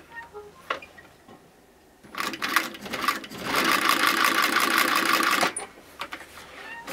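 An old shoe-stitching sewing machine, a design unchanged for a century, set to its widest stitch pitch, runs in a loud steady burst for about three seconds, with a few clicks of handling before and after.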